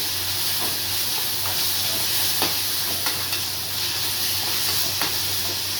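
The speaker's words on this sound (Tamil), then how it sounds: "கொஞ்சம் தக்காளி வதங்கும்" Tomatoes sautéing in a pan for a pepper bitter gourd stir-fry, a continuous hissing sizzle with light stirring taps and a low steady hum beneath.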